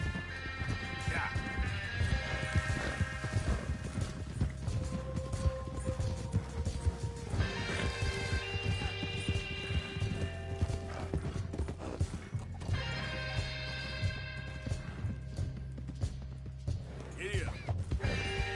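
Horse hooves gallop in the video game Red Dead Redemption 2, a steady clip-clop under game music and effects with occasional crashes, while voices talk over the ride.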